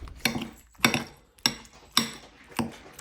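A knife cuts raw dog food in five evenly spaced chops against a board, each a sharp close knock with a short decay, in a quiet room.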